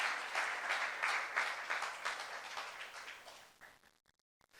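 Church congregation applauding together in a youth worship service, a steady wash of many hands clapping that fades out near the end, with no talk over it.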